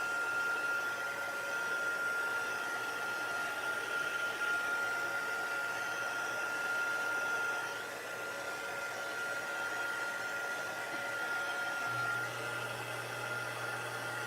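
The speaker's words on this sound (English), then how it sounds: "I'm going to hit this with my heat tool. And I'm blowing it down" A heat tool blowing steadily on wet watercolor paint, a constant airy whoosh with a thin whine, fairly quiet and unbroken, with a brief dip in level partway through.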